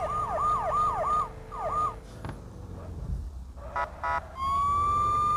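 A SAMU ambulance siren wails in a GTA-style car and motorcycle game, a loud close sweeping yelp that cycles rapidly, cuts out amid engine rumble and brief beeps, then returns as a steady high tone.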